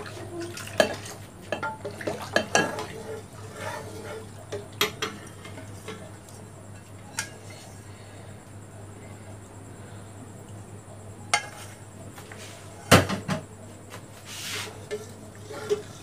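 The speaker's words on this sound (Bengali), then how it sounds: "ভালো করে নাড়তে হবে।" A spoon stirs milk with caramel in a pot for mishti doi, making sporadic clinks and taps against the pot with quiet scraping between them, close, over a steady low hum.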